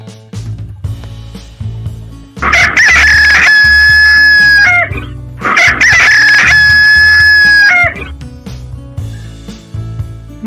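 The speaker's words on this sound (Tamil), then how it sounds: "சேவல்" Two loud, close rooster crows, each a long strained cock-a-doodle-doo lasting several seconds, separated by a short gap, over a soft musical backing with no talk.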